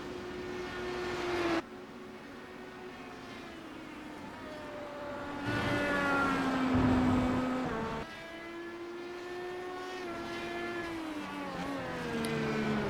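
Simulated IndyCar race cars at Road America in iRacing whine past at speed. Engine notes rise and fall in pitch as the cars sweep by, with a steady high-revving drone between the passes.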